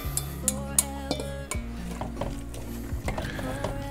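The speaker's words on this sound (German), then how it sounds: "Einmal umrühren." A spoon stirs a pot of carrot stew with lovage, vegetables and pepper, scraping and clinking against the pot in irregular strokes over a low simmering sizzle, close and moderately quiet with no talking.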